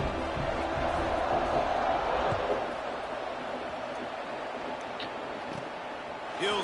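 Stadium crowd in the College Football 26 video game, a steady broad roar of cheering fans at kickoff that stays loud and constant throughout, with faint bursts on top.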